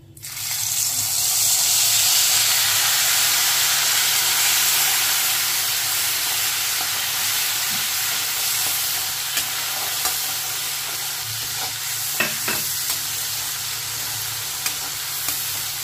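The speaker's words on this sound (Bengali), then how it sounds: "এখানে আমার মশলাটা কষছে" Ginger paste mixed with cumin powder, turmeric and salt sizzles steadily in a hot wok, a loud continuous frying hiss with occasional stirring clicks and no talking.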